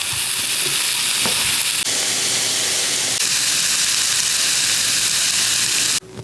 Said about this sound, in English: we're just gonna kind of saute this till the onions become translucent and nice and caramelized